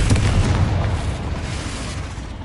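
A Confringo blasting spell detonates in Hogwarts Legacy with a deep, rumbling boom that rolls on and slowly fades, loud and full-bodied with a low-end roar.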